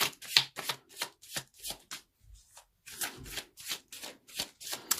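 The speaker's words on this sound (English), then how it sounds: "let's pull a few additional cards" Tarot cards are shuffled and riffled by hand for a reading, a run of about a dozen quick papery bursts that fall into a steady rhythm, close and clear, with a short pause midway and no talking.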